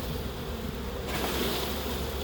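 A honeybee swarm caught in Créteil and shaken into a hive at Vigneux-sur-Seine, heard as a dense, continuous buzzing hum that swells louder partway through, with no voices.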